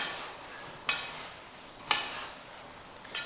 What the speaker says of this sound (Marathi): आता हे सगळं आपल्याला चांगलं मिसळून घ्यायचं आहे